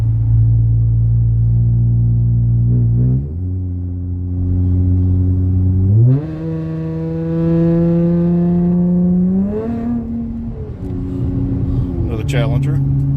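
Chevrolet Camaro fitted with Magnaflow Magnapack exhaust revs up close and loud, a deep steady idle climbing in two stepped blips to a held high rev before dropping back, with a final quick rev at the end.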